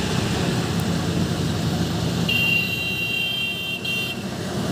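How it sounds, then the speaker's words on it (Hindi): Heavy traffic crawls along a flooded road after rain: a dense, continuous rumble of engines with car horns tooting repeatedly in short bursts and a longer, higher horn blast midway, no voices. "बहुत ज़्यादा शोर है, बहुत ज़्यादा ट्रैफिक है"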